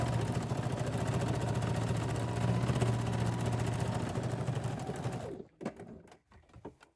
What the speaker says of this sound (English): Now I can do my top stitching. And I go right along the outside edge.